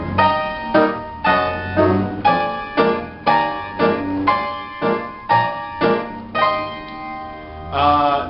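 Stride piano chords are struck squarely on the beat in an even, regular rhythm, about a dozen bright, ringing chords each followed by a short decay, played alone and close.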